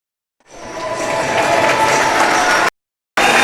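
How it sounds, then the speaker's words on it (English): Canadian and Russian hockey fans applaud at the 2019 opening ceremonies for the Buffs versus AK Bars, a loud, sustained roar of clapping that rises in, cuts out abruptly for a moment, then resumes. "a big round of applause from all the Canadian fans and the Russians"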